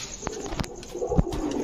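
Cooing of an Indian Kaldam pigeon, a large-headed big-sized male with full cream eyes, in a small group of low soft coos near the microphone with other pigeons faintly in the background.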